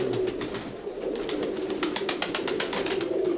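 Pigeons coo steadily in a dovecote, a dense, continuous murmur of birds close by, with rapid wing flutters or pecking taps through the middle.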